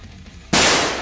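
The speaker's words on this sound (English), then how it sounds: "Goddamn gunshots." A single sharp video game gunshot cracks loudly out of near-quiet and rings off in a broad, noisy burst.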